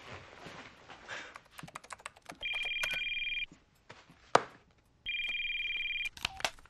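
Telephone ringing indoors in a Smallville television scene, two electronic ring bursts separated by a pause, with light clatter and movement around them.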